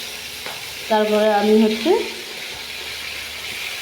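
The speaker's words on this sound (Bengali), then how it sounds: "আর এদিকে গ্যাসটা লো করে দিই, মাছটা ভাজা হোক।" Catla fish fries in oil in a pan over a low gas flame, giving a soft, continuous sizzle that carries on beneath a brief bit of talk.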